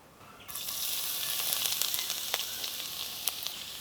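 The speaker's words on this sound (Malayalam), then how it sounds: "ഈ വെളുത്തുള്ളിനൊന്നും ഇങ്ങോട്ട് വഴറ്റിയെടുക്കാം നമുക്ക്" Garlic dropped into hot coconut oil in a frying pan: a close, steady sizzle that starts suddenly and carries on with small pops and crackles.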